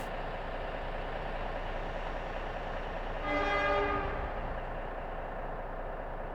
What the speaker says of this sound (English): That's a gravel train for some reason.